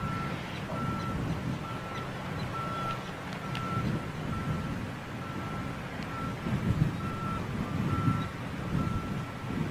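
Evenly spaced, regular warning beeps sound as a bridge opens for a barge near London City. Each beep is clear but not loud, heard from a distance over wind and low traffic rumble.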